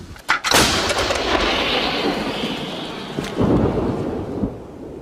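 A half-century-old howitzer of Soviet origin fires, a sharp heavy boom near the start followed by a long rolling rumble that echoes away outdoors, with a second swell of rumble later.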